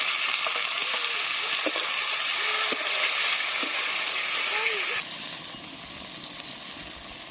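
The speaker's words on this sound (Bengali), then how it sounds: "পেঁয়াজটা ভাজার পর একটু সময় দিয়ে দেবো টমেটো কুচিগুলো" Chopped tomatoes and onions fry in a pan with a continuous bright sizzle and a few soft spatula knocks, then the hiss drops abruptly to a quieter simmer for the last couple of seconds.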